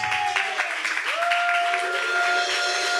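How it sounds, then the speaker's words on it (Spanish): A church congregation applauding during a service, a dense wash of clapping held at an even level, with a sustained musical tone, likely keyboard, running through it. "Dale ese aplauso al Señor."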